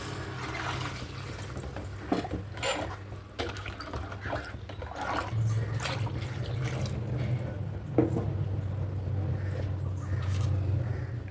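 Water poured into a pan of simmering Hogenakkal-style fish curry makes a continuous splashing, bubbling trickle, moderately quiet and steady, with kitchen clatter underneath.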